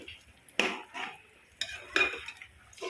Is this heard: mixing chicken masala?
yes